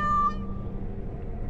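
A cat meows once in Dragon Age: Awakening, a short, clear in-game mew over a low game soundscape that continues after it fades.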